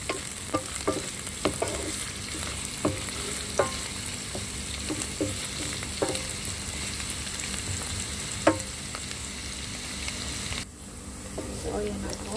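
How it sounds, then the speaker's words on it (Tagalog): Garlic and onion sizzle steadily in hot cooking oil, a continuous crackling fry punctuated by scattered clinks and scrapes of a spoon stirring in the pan. "Luto tayo ng bawang sibuyas."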